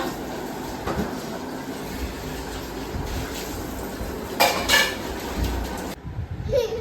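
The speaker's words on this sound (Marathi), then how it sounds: "आता भांडी घासला या" Pots, plates and cutlery are scrubbed and washed after a birthday, producing quiet clinks and clattering, with a brief louder burst of knocking near the end.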